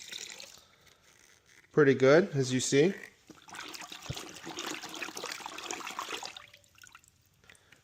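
One ounce of dark blue rinseless wash concentrate is swirled into water, producing a few seconds of splashing and sloshing just after a brief spoken remark.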